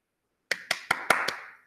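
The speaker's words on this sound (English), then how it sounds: "So let's give them all a big clap, please." Audience applause at a school celebration assembly: five sharp claps spaced evenly over about a second, close and fairly loud, with a lingering wash of clapping after them.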